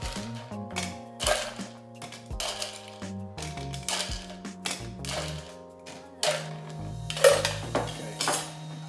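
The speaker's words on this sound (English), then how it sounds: "Gonna top the tin up with ice, so ice cubes." Ice cubes clatter and knock into a metal cocktail tin while a dirty martini is built with gin, dry vermouth and olive brine, giving a run of close, bright clinks and rattles of uneven rhythm.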